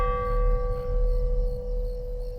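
A bell tolling as a stage sound effect in a theatre production of Macbeth, one sustained, ringing tone that holds steady and slowly fades, close and fairly loud, with no voices.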